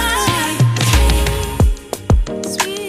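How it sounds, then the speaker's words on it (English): Mariah Carey's song "Sugar Sweet" playing loudly and alone, with punchy bass hits and layered melodic vocals and instruments. "Brand new Mariah Carey. This is Sugar Sweet."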